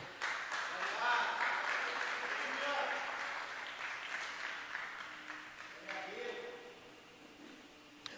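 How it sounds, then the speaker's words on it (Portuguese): A Pentecostal church congregation applauds in a hall, a broad patter of clapping that gradually fades, with voices speaking over it. "Se assente, aplaude ao Senhor."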